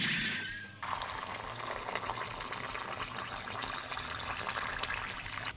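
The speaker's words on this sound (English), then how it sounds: "put some water into your rice, make it about a segment of your finger above the rice level" Water poured into soaked rice in a pot before cooking for oyakodon, a steady continuous rushing stream that begins abruptly and runs without a break.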